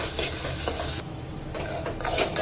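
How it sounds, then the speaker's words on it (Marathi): Masala paste for a village-style egg curry sautéing in oil, a steady close sizzle with stirring scrapes throughout, briefly quieter midway before the frying crackle swells again. "2 ते 3 मिनटं ह्याला परतवून घ्यायचं आहे जोपर्यंत ह्याला तेल सुटत नाही तोवर"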